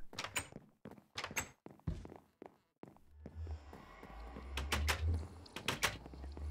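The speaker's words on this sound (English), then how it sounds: "Here's the piston door." Blocky mechanical thunks and clacks from a Minecraft piston door repeatedly opening and closing, some quick double hits, with a low rumbling background rising partway through; no talk.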